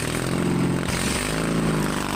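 A tractor engine roars steadily during a wheelie while pulling with a welded hitch, a loud, continuous mid-pitched drone with a slight rise in pitch, close and without speech.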